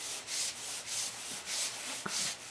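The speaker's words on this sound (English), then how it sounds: "So what I do is put some on the inside, kind of rub it around with my hand." A hand rubs talcum powder around the inside of a motorcycle tire during BMW F650GS maintenance, producing a steady, close, soft swishing that rises and falls in slow, regular strokes.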